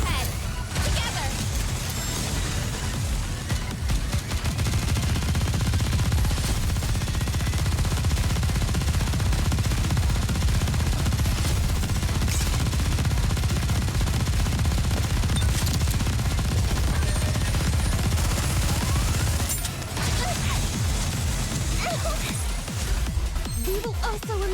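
Sustained rapid gunfire from the Goddess of Victory: NIKKE video game rattles on almost continuously over a rumbling game backdrop, loud and dense with brief gaps.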